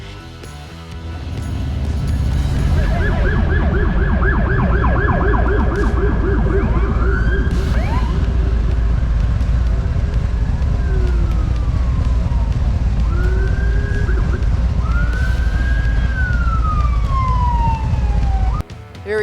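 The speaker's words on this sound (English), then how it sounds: "So take a look at all the police cars that come by." Several police car sirens wailing and sweeping in pitch as they pass through traffic at a stoplight, loud and continuous over a steady rumble of idling road noise, no voices.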